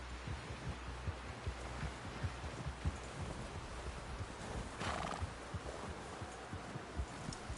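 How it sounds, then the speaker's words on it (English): A horse in the video game Red Dead Redemption 2 walks with steady, faint clip-clop hooves under a low hum, and a brief snort or whinny stands out partway through. "Someone help John down off this horse."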